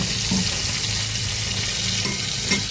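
Food fries in a pan with a loud, close, continuous sizzle, broken by a couple of brief stirring knocks near the end.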